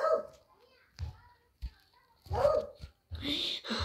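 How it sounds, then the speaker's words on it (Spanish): Dogs barking in short, sharp bursts with a few yips and whimpers, fairly close, mixed with people talking in between. "Perros ladrando."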